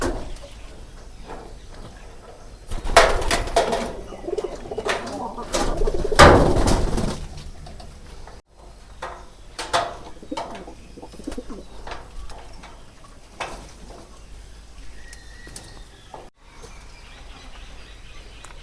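A fantail pigeon coos repeatedly at close range, soft throaty calls mixed with rustling, flapping and occasional thumps nearby.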